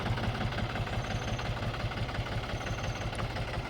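A Mahindra Bhumiputra 275 DI tractor in company condition idles with a steady, even diesel chug, a close, constant low throb with a faint rhythmic knock and no voices.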